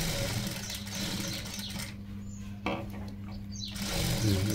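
A sewing machine stitching a blouse, its motor humming in a steady close whir with brief pauses and small mechanical clicks.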